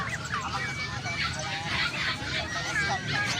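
A flock of turkeys gobbling and chattering in a busy, continuous din at a market, with people talking underneath.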